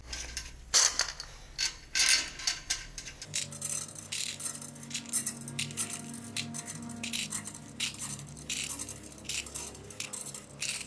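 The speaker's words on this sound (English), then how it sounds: "Now I'm installing these additional clamping bolts around the perimeter." A ratchet tightens clamping bolts around the perimeter of an Isuzu 4HK1 engine during a rebuild, giving rapid bursts of clicking between pauses, close and fairly crisp.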